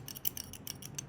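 A 3D-printed fidget button shaped like a keyboard key clicks in a quick irregular series of crisp, close, light plastic taps, about seven or eight within a second, with no voices.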